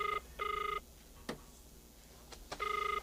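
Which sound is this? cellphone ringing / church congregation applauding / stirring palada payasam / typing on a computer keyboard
cellphone ringing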